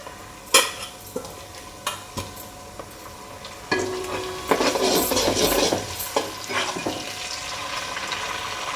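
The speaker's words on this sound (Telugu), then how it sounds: "ఇప్పుడు ఆనియన్ ఇంకా పచ్చిమిర్చి కొంచెం ఫ్రై చేసుకుందాం" Chopped onion and green chillies frying in oil in a pan, a spatula scraping and tapping the metal at intervals before a louder burst of sizzling and stirring takes over, close and busy.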